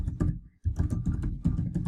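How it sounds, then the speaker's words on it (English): Someone types on a computer keyboard in a quick, close run of clicking keystrokes with one short pause partway through. "if I click down here and I start typing"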